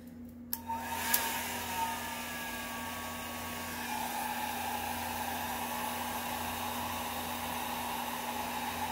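A blow dryer switches on and runs continuously with a steady, close whooshing hum, pushing alcohol ink across a surface, with faint clicks at the start and no talking.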